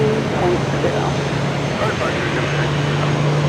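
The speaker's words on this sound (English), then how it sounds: "This arrival on 22 left is JetBlue Flight 34 coming in from Paris on an A321neo." A JetBlue Airbus A321neo arrives on runway 22 left at Boston Logan with a steady distant engine drone and a low hum underneath. A voice talks over it throughout.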